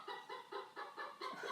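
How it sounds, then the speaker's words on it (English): A chicken clucks in the background, a steady run of about six short clucks in quick rhythm, moderately loud and alone, with no talking. "There's our chicken again"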